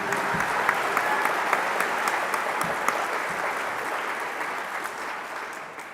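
A graduation ceremony audience applauding, a dense, sustained wash of clapping from a large crowd, fairly loud and even, tapering slightly toward the end.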